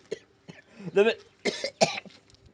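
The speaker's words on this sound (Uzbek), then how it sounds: "bir yo'tal kelib qoladida har har zamonda har zamonda yana kelib qoldi" A person coughs a few times in short, rough bursts mixed with throat sounds, close and moderately loud, with brief quiet gaps between.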